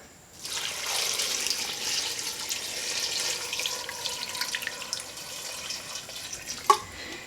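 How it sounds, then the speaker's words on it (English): Tap water pours steadily into a pot of chopped vegetables for homemade vegetable beef soup, a continuous hissing gush lasting several seconds before a brief clunk near the end, close and moderately loud. "We just want to cover our veggies with water."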